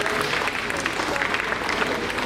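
Steady applause from an audience at a municipal ceremony celebrating 25 years of local self-government in Wieliszew gmina, dense clapping that stays even and sustained throughout.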